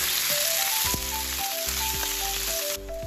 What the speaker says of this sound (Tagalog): once na mainit na po yung mantika, isotay na po natin itong ground beef natin